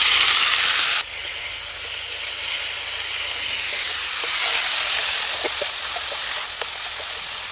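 Boiled banana flower goes into a pan of frying potatoes, and a loud hiss drops quickly to a softer, steady sizzle with a few small pops and scrapes close by.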